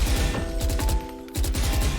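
Rapid hip-fire gunfire in Valorant, a loud, fast stream of shots with a brief lull midway before the burst resumes, heard alone.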